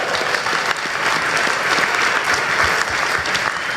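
Steady audience applause fills a conference hall during an extended speaker Q&A panel at Big Omaha 2013, a dense, even wash of many hands clapping throughout without any voices.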